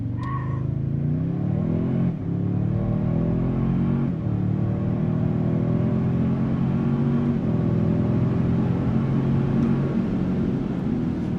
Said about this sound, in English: Let's see what this truck will do from 0 to 60.